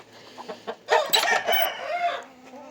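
A broody Sasso hen clucks in short, scattered bursts, then breaks into a louder, drawn-out run of agitated clucking and squawking close by.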